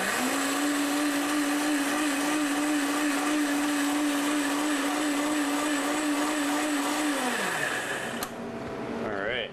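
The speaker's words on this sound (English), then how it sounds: "So we're lucky enough to have a Vitamix. Turn it on." A Vitamix blender runs at high speed, blending a fruit coulis. It gives a loud, steady whine that holds evenly for several seconds, then the pitch drops as it winds down, and a clunk follows at the end.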